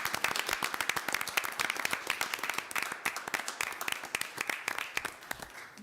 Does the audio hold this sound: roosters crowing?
no